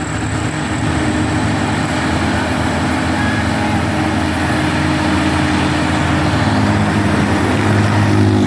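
An 8x6 heavy truck drives past at Bukit Kodok hill, a loud, continuous low engine rumble and road roar that holds steady and swells slightly toward the end.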